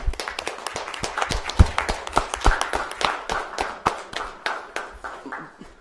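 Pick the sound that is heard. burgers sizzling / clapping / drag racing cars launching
clapping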